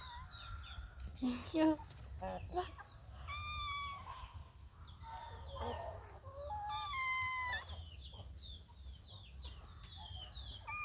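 Chickens clucking and calling at close range, with short, rising cries scattered throughout and a voice speaking briefly in between.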